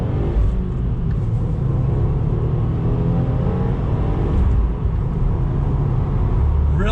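A 2020 Subaru WRX engine holds a steady, loud drone under throttle with a deep low rumble and mild rising whir, continuous from a cabin perspective with no speech.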